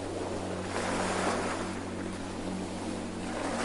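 Ocean waves wash onto a sandy beach in a steady, continuous surf roar with some wind noise, no voices.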